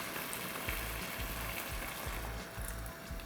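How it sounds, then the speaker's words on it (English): Coconut milk hits a hot callaloo pan over medium-high flame, a steady close sizzle and frying hiss with low bubbling pulses running throughout, no voices. "I'm going to add our coconut milk."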